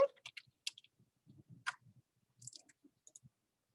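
Sparse, faint clicks and taps of typing on a computer keyboard, irregular keystrokes with short gaps in a quiet room.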